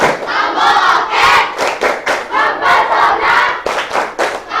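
A class of students standing and clapping in a rhythmic appreciation cheer, loud group chanting and shouting in unison with bursts of claps, close and energetic.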